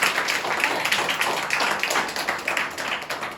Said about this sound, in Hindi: आइए जोरदार ताली अपने परमेश्वर के लिए बजाएं